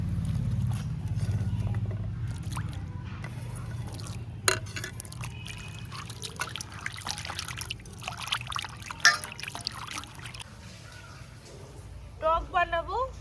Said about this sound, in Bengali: নারকেলগুলো ধুয়ে নেব ভালো করে